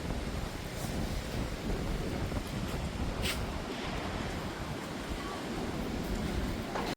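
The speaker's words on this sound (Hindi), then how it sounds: "काफ़ी तेज़ हवा चल रही है।" Strong, roaring storm wind buffets the microphone without a break, a dense rushing noise that stays loud throughout.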